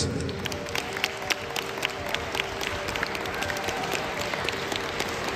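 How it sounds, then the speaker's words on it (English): Steady applause from an audience at a charity event, honouring Richard, many hands clapping densely and evenly throughout at moderate volume, no voices standing out. "applause for Richard"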